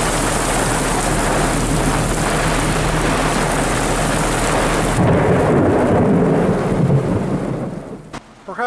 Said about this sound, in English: Another storm's rolling in.